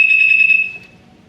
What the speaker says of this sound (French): ça va être la sonnerie du détecteur de fumée qui va se mettre à sonner